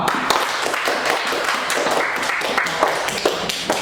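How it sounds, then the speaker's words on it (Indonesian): Classroom students clap for a group after their presentation, steady rapid clapping that continues throughout at close range. "beri tepuk tangan untuk kelompok 2"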